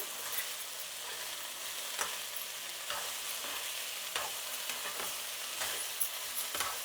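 Raw banana (aratikaya) fry crackles in a pan, a bright continuous sizzle with repeated scraping stirs at a steady rhythm, close and fairly loud throughout.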